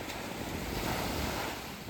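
Sea waves washing below Aguada Fort in Goa, a continuous broad surf roar mixed with wind buffeting the microphone, steady and fairly faint throughout with no voices.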